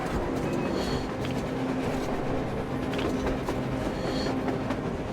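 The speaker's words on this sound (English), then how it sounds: "A train! A damn train on the surface!" Train rolling across the surface in the Metro Exodus video game, a steady rumbling clatter of wheels and railcars that fills the whole stretch, fairly loud and continuous with no talk over it.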